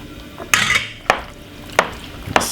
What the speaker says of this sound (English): Give it a nice lovely mix.